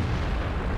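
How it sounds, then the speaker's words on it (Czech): Tank cannon fire in World of Tanks, a dense, loud low rumble of blast filling the short moment with no pauses. "Tady někdo střílí po svých,"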